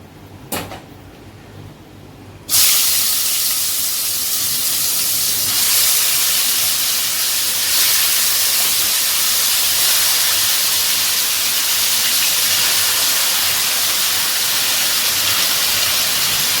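Mutton pieces dropped into hot spices in a pan for mutton gorgora: a brief clatter, then a sudden loud, steady sizzle and hiss that stays strong and even to the end, with no talking.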